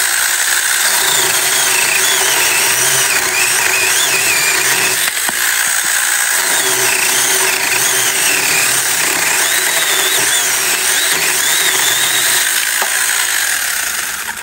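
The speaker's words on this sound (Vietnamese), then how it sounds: "anh em thấy cái hiệu quả của cái cưa xích này ha" A chainsaw roars continuously and loudly at close range, its engine note wavering slightly as it bites into wood.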